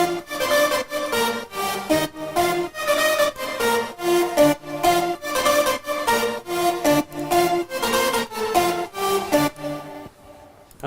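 Electro house drop melody from two or three stacked Arturia synth patches layered with a real Moog, a bright rhythmic chord riff pulsing steadily before cutting off near the end.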